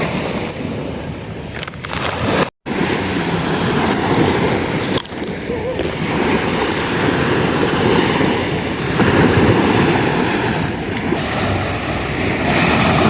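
Steady wash of sea waves on a beach and wind rushing over the microphone, a continuous outdoor roar with one brief dropout.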